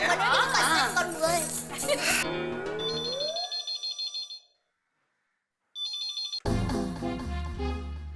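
Short electronic phone ringtone tones chirp twice, separated by a gap of silence, amid a lively sitcom scene with overlapping talk and laughter before and after.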